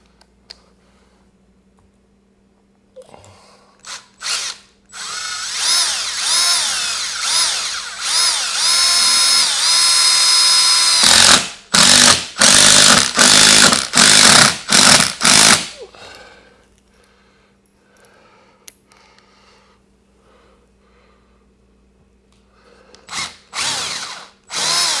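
A power drill drives long screws fitted with washers while an extension cord reel is mounted; close, loud whirring bursts of several seconds, then short stop-start pulses as each screw seats, with quiet pauses between.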